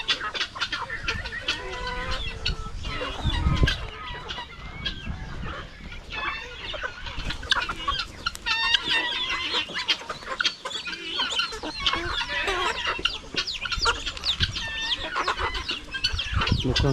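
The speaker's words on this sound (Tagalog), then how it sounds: "Napakadali lang ulihin yung mga manok natin, no?" Domestic chickens on a small Filipino backyard farm by a hut cluck and call steadily, with overlapping bird chatter and rooster-like calls throughout, fairly near and continuous.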